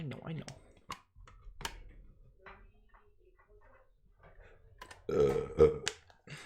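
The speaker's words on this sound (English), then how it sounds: "Here's like that burp." A single loud, low burp near the end, preceded by quiet clicks and scattered noises from a gaming setup.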